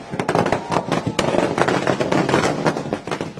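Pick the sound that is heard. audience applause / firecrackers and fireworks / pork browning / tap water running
firecrackers and fireworks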